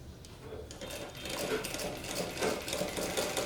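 A sewing machine stitches a blouse sleeve, running in a steady, fairly close mechanical whir that swells slightly after the first second, with no talk.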